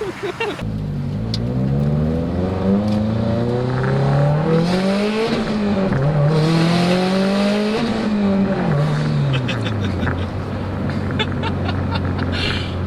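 Heard from inside, a Subaru WRX STi engine accelerates hard through several gears, its pitch climbing and dropping with each shift, loud and continuous.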